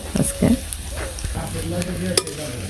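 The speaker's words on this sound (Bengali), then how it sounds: "যে হয়ে গেছে মশমশা করে ভেজে নিলাম নামিয়ে নিই" Fish pieces coated only in rice flour fry in hot oil with a crackling sizzle, broken by a few sharp pops and clanks of a utensil against the pan, close and fairly loud, with no talking.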